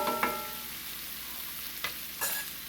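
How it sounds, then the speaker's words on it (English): Food frying in a pan being stirred: a steady soft sizzle with a few brief scraping strokes of a utensil, close and fairly quiet, no voices. "I'm just going to make sure you're stirring it all"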